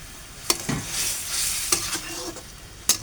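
Turmeric powder and salt fry in a hot pan while a utensil stirs them, giving a soft continuous sizzle punctuated by a few sharp scraping knocks against the pan.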